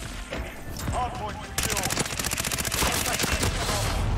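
Gunfire from the video game Fortnite starts as a few scattered shots, then becomes a dense, rapid, continuous burst of automatic fire for the second half, loud and close, with a player's voice faintly underneath.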